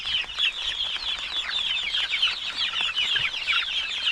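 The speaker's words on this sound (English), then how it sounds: "Chickens!" A flock of chickens clucks on a farm in Saskatchewan, Canada, a close, dense and continuous chatter of overlapping clucks and calls with no talking.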